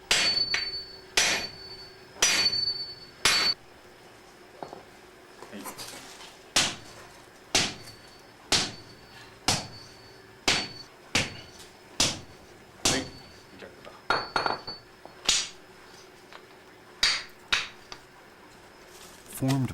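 Sharp metal hammer blows ring out one at a time, about one per second, as hard toughened steel is bent into a U-shaped outer jacket for a Japanese sword; a voice speaks quietly between the strikes.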